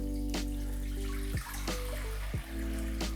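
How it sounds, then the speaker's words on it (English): Water poured from a tap into a container, about 900 grams, as the base for onion, algae and lime leaf kombucha, splashes steadily and close up with a constant hum behind, a few sharp knocks breaking in. "So I'm just gonna add about 900 grams of water in here."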